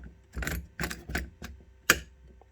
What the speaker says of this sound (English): So it goes in, and then you're gonna hear it click, watch.